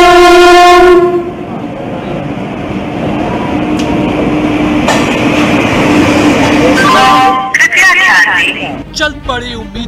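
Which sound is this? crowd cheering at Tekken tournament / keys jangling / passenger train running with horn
passenger train running with horn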